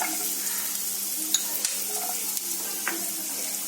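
Vegetables for chicken fried rice sauté lightly in a pan, a steady close sizzle throughout with a few soft clicks of stirring.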